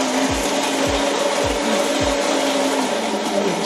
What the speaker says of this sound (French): C'est une machine qui moule les grains